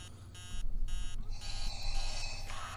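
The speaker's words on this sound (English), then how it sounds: "Shut up, dumb alarm." An alarm clock goes off in a horror game at 3 a.m., sounding repeated loud electronic beeping bursts in a regular on-off pattern, followed by a longer continuous buzzing tone, with no talking.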